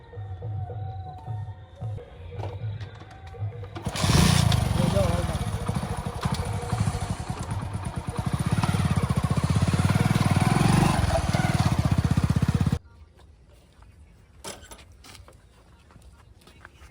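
A motorcycle engine running up close, a loud rough drone that starts abruptly, holds steady for several seconds, then cuts off, with quieter background noise and sounds around it.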